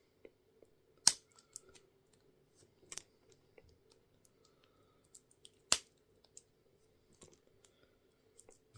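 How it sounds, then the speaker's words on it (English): Side cutters snipping copper winding wire off a synchronous motor being scrapped, giving a few sharp, close snips spaced seconds apart over a low steady hum, with faint small clicks between them. "pair of side cutters does the job really well"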